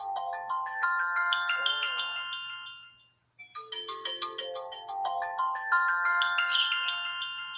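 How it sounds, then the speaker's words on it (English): A melodic electronic alarm rings loudly in two bursts of repeating tonal notes with a brief gap between them, while people talk during a live tarot and spirit box session. "I think I hear the alarm."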